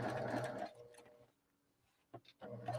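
A sewing machine stitches a quilt's sashing and borders, running in two short bursts of steady mechanical whirring separated by a near-silent pause and a faint clatter.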